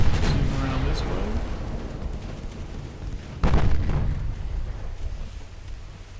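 Heavy naval gunfire from warships in the Ultimate Admiral Dreadnoughts game, a deep booming salvo rolling out loud around mid-clip over a constant low rumble, with a voice talking early on.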